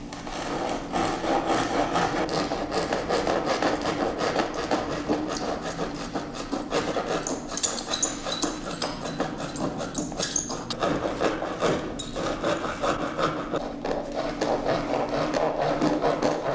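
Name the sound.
wood being rasped to shape a heart-shaped sound opening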